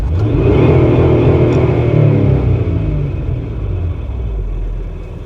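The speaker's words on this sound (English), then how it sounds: "Depress the accelerator and the engine goes into fuel cutoff." A 2007 Honda Odyssey with a misfire revs up under the accelerator into fuel cutoff, a loud, close engine roar holding high and then easing off toward the end.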